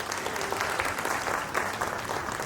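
Audience applause at a Polluxcoin crypto project presentation, steady dense clapping from a crowd that holds at an even level throughout, moderately loud with no pauses.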